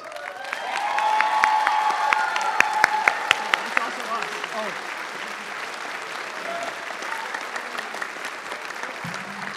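An audience applauds loudly with sustained clapping and some cheering, tapering off slightly toward the end.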